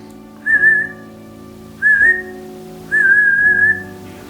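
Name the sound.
person imitating a human whistling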